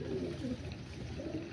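Pigeons of a top-class Malwai pair coo in a low, continuous murmur, several soft throaty calls overlapping close by without any talk.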